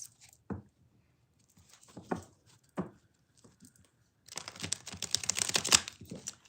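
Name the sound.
shuffling tarot cards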